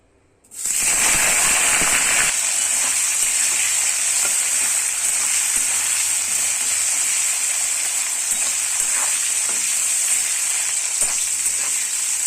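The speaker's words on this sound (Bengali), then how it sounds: "ওই তেলটাতেই আমি ফুলকপিটা ফ্রাই করে নেব।" Cauliflower hits hot oil with a sudden loud hiss, then fries in a steady, bright crackling sizzle that continues throughout.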